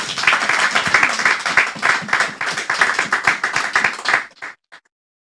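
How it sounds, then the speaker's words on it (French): A church congregation claps and applauds together to acclaim the Lord, with dense, sustained clapping that fades out near the end. "Est-ce qu'on peut acclamer le Seigneur?"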